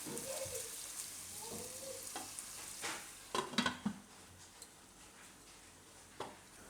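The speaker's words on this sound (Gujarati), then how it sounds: "તો આને આપણે હવે તેલમાં પાકવા દઈશું, વચ્ચે વચ્ચે હલાવતા રહીશું." Suran and sabudana khichdi fries softly in oil, a faint low sizzle with occasional light scrapes and clinks of a spoon stirring the pan, quiet and close.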